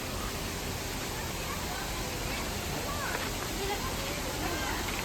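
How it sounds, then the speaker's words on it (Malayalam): A full waterfall rushes at the Garden of Caves in Cherrapunji, a forest setting with small caves. It makes an even, unbroken wash of noise, moderately quiet and constant throughout. "ഫുള്ള് വെള്ളച്ചാട്ടമായതുകൊണ്ട് തന്നെ നല്ല സൗണ്ട് കേട്ടോ."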